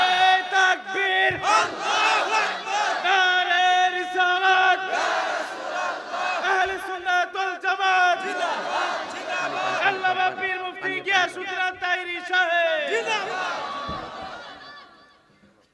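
A large crowd at a Bengali waz gathering chants the takbir, Allahu Akbar, together in loud, sustained, rhythmic shouts that fill the space, with mixed voices and some chatter, then fade toward the end.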